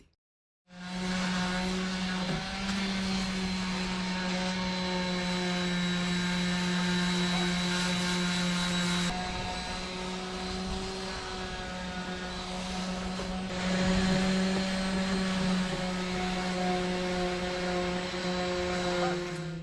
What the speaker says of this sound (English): he is actually sanding this Mizzen